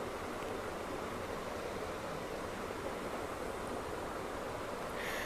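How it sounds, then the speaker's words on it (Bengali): Food frying in oil in a pan gives off a steady, dense sizzling hiss that holds unbroken and fairly loud throughout, with no voices. "এখন আবার তেলের মধ্যে একটু ভেজে নিচ্ছি"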